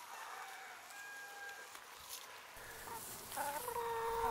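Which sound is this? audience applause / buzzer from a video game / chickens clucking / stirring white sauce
chickens clucking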